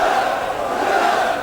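A large crowd of young people and students at a protest rally roars in sustained, loud, massed shouting that holds steady throughout without pause.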